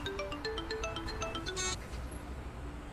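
A phone rings with an incoming call, playing a loud, clear melodic ringtone of rapid repeating notes that cuts off after a couple of seconds, leaving quiet room noise.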